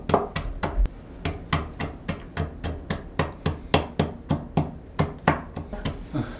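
Garlic is minced with a traditional Korean knife that has a wooden handle, in a fast, regular series of sharp chopping thuds on a board, close up and steady throughout.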